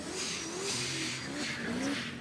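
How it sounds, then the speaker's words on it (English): The Walter Racecraft 3rd Gen Camaro hot rod revs close by at a Brown County street drag event, a loud, steady engine roar that rises and falls in pitch. "one of my favorite hot rods to listen to when it comes to the symphony of horsepower rolling up here in the left-hand lane. The Walter Racecraft 3rd Gen Camaro"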